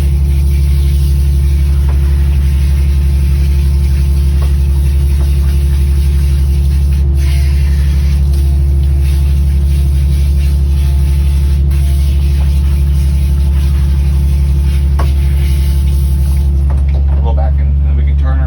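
A Sudser pet-washing pump runs during a rinse, a loud, constant low motor hum and drone with a steady water wash, while a voice talks over it. The hum cuts off near the end.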